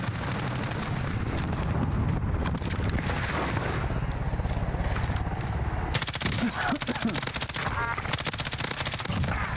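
Gunfire in Call of Duty Warzone, including M13 rifle fire: loud, rapid automatic bursts continue throughout and turn into a sharper, denser rattle partway through, with battlefield noise behind.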